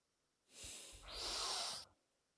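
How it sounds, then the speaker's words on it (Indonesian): A patient takes a slow, deep breath in through the nose during a guided breathing exercise at a doctor's consultation, a close, steady airy inhalation lasting about one and a half seconds before it stops. "Coba lagi tarik napas."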